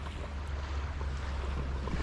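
Sea waves washing at the beach in Varosha, Cyprus, a low steady surf rumble with wind noise on the microphone, no voices.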